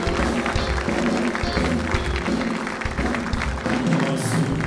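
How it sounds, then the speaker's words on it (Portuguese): A church congregation claps to welcome a visiting preacher from Brasília, a sustained loud round of applause with steady dense clapping and faint crowd murmur throughout. "Vamos acolher o nosso irmão com uma linda salva de palmas"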